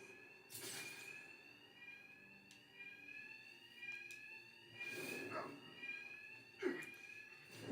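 Inside the video game Batman Arkham Knight, an alarm keeps ringing as a steady piercing electronic tone, while several sharp hits and scuffles of combat burst over it at irregular moments.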